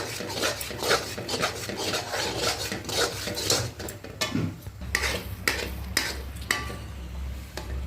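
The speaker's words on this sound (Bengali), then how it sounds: "এটা ভালো করে কষতে হবে, কষাটা যেন সুন্দর হয়। অনেকটা করে কষতে হবে।" Chicken masala sautéed in a pan, a spoon scraping and rubbing steadily against the metal over a low frying hiss, with several sharper clanks near the end.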